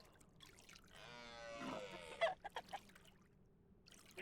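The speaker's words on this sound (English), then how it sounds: "I hear chicken nice and close." A chicken clucks in a video game, a short run of faint clucks following a brief rising cry, set against quiet background ambience.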